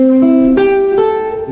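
A sustained harmonic chord built from the A Dorian mode with a flat seventh, rung out as several notes entering in steps and ringing on, clear and solo.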